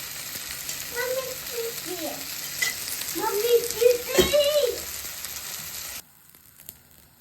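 Homemade uttapam fries in oil in a pan, the oil added in rounds after black pepper, giving a close, steady sizzle with soft talk over it before it drops off near the end.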